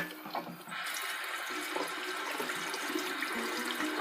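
Running water rinses a pair of boots under a tap, a close, steady rushing splash that starts after a brief quieter moment and continues to the end.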